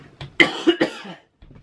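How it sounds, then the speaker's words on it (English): A short cough from someone with something caught in the throat during an ab workout: a couple of rough, close bursts, then a faint trailing rasp after a brief pause. "It's not even a real cough, there's just something in my throat."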